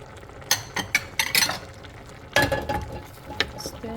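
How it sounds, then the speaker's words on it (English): A spoon stirs yam porridge with added leaves in a cooking pot, giving close scraping and clattering strokes in two bursts with a soft bubbling simmer between them. "Stir this together."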